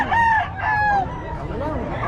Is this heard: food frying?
no